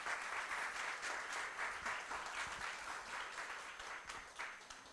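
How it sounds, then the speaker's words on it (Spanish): A conference audience applauds to welcome speaker María Apólito, quiet, steady clapping with a rhythmic pulse that tapers off gradually. "Recibimos con un fuerte aplauso a María Apólito."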